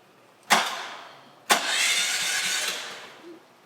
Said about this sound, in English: Here comes the fuel pump. Okay, that'll be a starter.